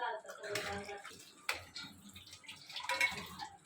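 A little water is poured into paneer bhurji cooking in a pan, giving quiet splashes and short trickling bursts with brief pauses between them.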